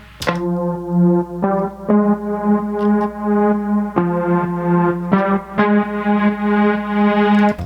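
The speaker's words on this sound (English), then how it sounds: "2 synth lines that sound like this." A distorted, echoey synth line for a disco beat plays sustained buzzy notes that shift every second or so, loud and up front with no voices.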